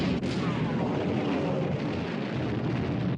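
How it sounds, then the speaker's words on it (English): Warship turret guns opening fire in a war film about the Bismarck, a heavy roaring artillery blast that fills the scene with dense rumbling noise for about three seconds, loud and close, no talk. "All turrets ready to open fire, sir. Open fire!"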